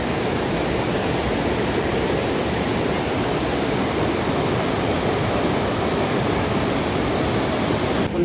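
River water rushing at the Punnuk Festival site in Ifugao, a dense, steady broadband roar with no breaks, loud and close, with no voices.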